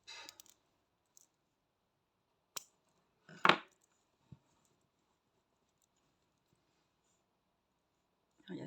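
Scissors snip yarn while a crocheted octopus is being finished: a few sparse, short snips and clicks close by, separated by near silence.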